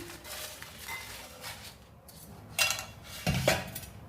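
Homemade fried potato chips tipped into a deep bowl, scattered light clinks and rattles followed by two louder clattering bursts near the end, with no talking.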